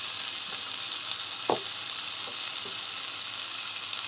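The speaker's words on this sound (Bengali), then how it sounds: "আদা বাটা রসুন বাটা একটু ভেজে নিচ্ছি, এটা কাঁচা গন্ধটা যাওয়ার জন্য।" Ginger and garlic paste fries in a pan with a soft, even hiss, broken once by a brief clack of a utensil, quiet and close with no talking.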